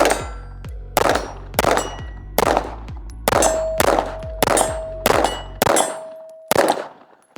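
A rapid series of sharp metallic clangs, about nine impacts in quick succession, each ringing briefly like a struck steel plate, as pistol shots from a ported 2011 crack alongside and bullets hit a steel target behind cardboard.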